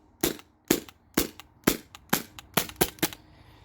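A modified Sabre 68 HDL airgun running on a 12 gram CO2 cartridge fires nine sharp, close shots in quick, fairly even succession, each a crisp crack with no talk.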